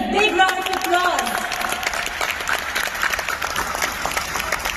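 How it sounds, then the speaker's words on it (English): Applause from an audience at the International Film Festival of India, honoring an actor's 25 years in film; dense clapping swells at first, then settles into a steady, lighter patter, with a voice talking over the start. "Big round of applause."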